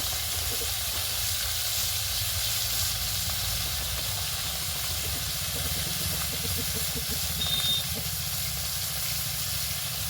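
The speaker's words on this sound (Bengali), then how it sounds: "ভাজগুলোকে ভালো করে ভেজে নেব লাল লাল করে ভাজবো" Fresh pond fish fry in oil with a continuous hissing sizzle over a low rumbling hum, steady and fairly quiet throughout, with no voices.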